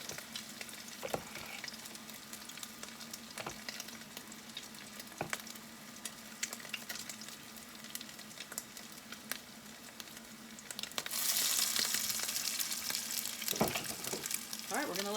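Spicy keto salmon patties fry in a pan with a continuous crackling sizzle and occasional sharp pops, swelling louder and hissier near the end; no talking.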